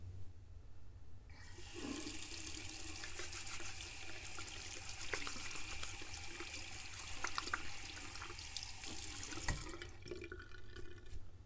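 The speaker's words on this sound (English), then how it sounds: "Let me just put away my tools and wash my hands" A tap runs while hands are washed after putting tools away, a steady close rush of water that starts suddenly, splashes and trickles for about eight seconds, then shuts off, leaving light drips.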